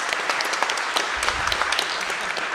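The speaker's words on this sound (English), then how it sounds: "So a round of applause for them for putting this together." Audience applause at a community event on housing justice and racial equity, a dense steady patter of many hands clapping throughout, fairly close and even in loudness.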